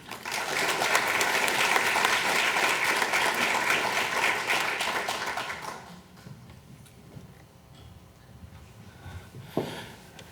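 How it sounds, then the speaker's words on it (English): Audience applause at a city awards ceremony as the vice mayor comes up, a loud, sustained wash of clapping from a crowd for about six seconds, then it cuts off into quiet room noise with a faint knock near the end. "give him a round of applause"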